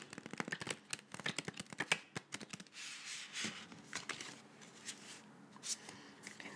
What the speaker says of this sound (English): So I'm going to shuffle these really quickly.